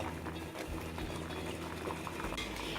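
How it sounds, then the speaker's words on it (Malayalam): Sugar syrup for tutti frutti bubbles and pops steadily in a pan as it boils and thickens, a close, soft, continuous simmer with no talking. "നമ്മളുടെ ഷുഗർ സിറപ്പ് ഇങ്ങനെ തിക്കായി വരുന്നുണ്ട്."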